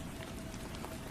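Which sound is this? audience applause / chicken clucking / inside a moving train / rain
rain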